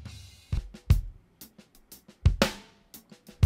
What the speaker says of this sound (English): I'm just going to mess around with using this dry snare with the overheads mixed in with it